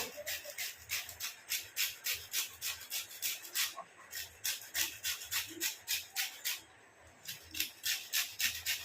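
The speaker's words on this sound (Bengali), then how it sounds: "গন্ধরাজ লেবু, আমার ভেতরটা কোনো দরকার নেই, আমার জাস্ট বাইরেটা হলেই হবে। এটা আমি ঘষে দিয়ে দেবো।" Gondhoraj lemon peel rasped against a grater, a steady run of close, crisp scraping strokes in quick regular rhythm with a couple of brief pauses.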